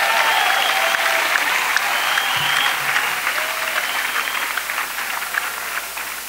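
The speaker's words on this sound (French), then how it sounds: "Clap for Jesus." A church congregation claps together in sustained applause at a prayer gathering, with a dense, steady wash of hand claps that stays fairly loud throughout and tapers slightly near the end.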